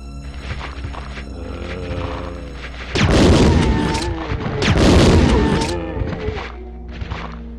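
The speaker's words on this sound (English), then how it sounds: "I'm gonna go ahead and fire." Gunfire in the Resident Evil 2 zombie game, with a couple of loud, booming shot bursts in the middle over a steady game soundtrack, ringing out and then fading back to ambience.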